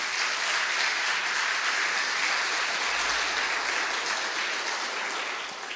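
Church congregation applauding during a Portuguese-language evening sermon, a dense, steady wash of many hands clapping that holds loud and even for the whole stretch before tapering slightly at the end.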